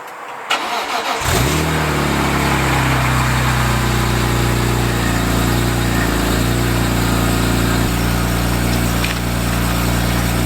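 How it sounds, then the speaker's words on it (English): A BMW E46 M3 with its straight-six engine and a Super Sprint cat-back exhaust with centre silencer fires up from cold, a brief crank catching into a loud, steady, raspy idle that holds close for the rest of the clip. "let's do a cold start on a cat back exhaust for a E46 M3 super sprint with the centre silencer."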